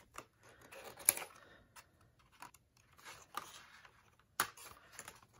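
Scissors snipping a die-cut paper landscape piece, soft close crisp cuts and paper rustles scattered irregularly, faint and quiet overall, with one sharper snip near the end.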